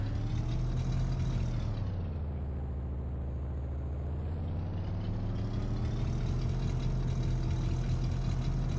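An in-game engine on a 1972 Ford F-150 pickup truck in Farming Simulator 15 drones steadily, its low rumble dipping and rising again in pitch as the revs change, close and continuous with no talking.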